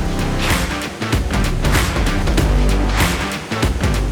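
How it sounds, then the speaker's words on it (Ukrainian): Fabric spreading machine laying cloth in the cutting room of a trouser factory, a loud, continuous mechanical clatter with repeated rhythmic bursts and a steady low drone, close by with no talk. "машина, яка настелює тканину."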